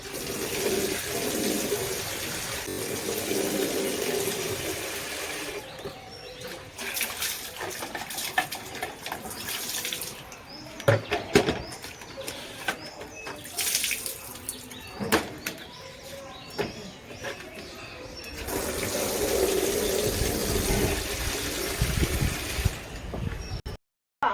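Running water pours while a dog is being bathed, a steady rushing flow at the start and again near the end, with clattering splashes and handling noises in between and no voices.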